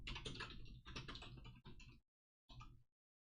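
Quick typing on a computer keyboard during a Nintendo Switch livestream, two dense bursts of clicking keystrokes followed by a short final flurry, close and clear with silent gaps between.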